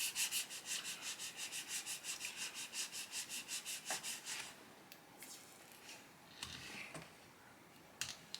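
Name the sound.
rubbing a screen protector onto a Galaxy S23 Ultra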